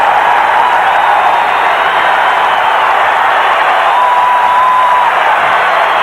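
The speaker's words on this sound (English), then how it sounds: "The rejection by Drexler. That gets the crowd going." Loud, dense crowd cheering and applause fills a basketball arena during a 1992 Olympic qualifier game between the USA Dream Team and Cuba, a sustained roar with a whistle-like tone briefly audible over it.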